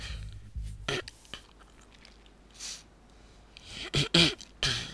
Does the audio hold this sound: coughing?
yes